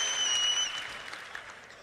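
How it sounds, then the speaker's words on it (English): Audience at the Citizen Con 2954 convention breaks into applause, a dense wash of many hands clapping that starts strong and slowly thins out, with no talk over it. "let's give it up for Duster. I'm clapping."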